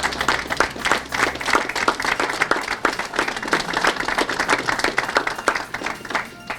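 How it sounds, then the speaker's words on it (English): Fire academy recruits clapping for their families in a brisk, dense round of applause with sharp individual claps, fairly close and steady throughout. "Now, give them a round of applause for the support that they have already given you and that they're going to."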